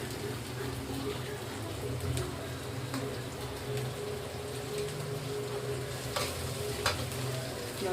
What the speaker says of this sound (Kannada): ನೋಡ್ರಿ ಕೊತ್ತಂಬರಿ ಹಾಕೊಂಡು ಮಿಕ್ಸ್ ಮಾಡ್ಕೊಳಗತ್ತೀನಿ.